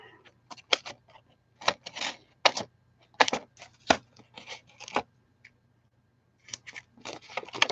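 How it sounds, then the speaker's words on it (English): Scissors snip paper card pieces for handmade cards, making a string of crisp, irregular clicks close by, with gaps of silence between the clusters of cuts. "And then let's snip some of these."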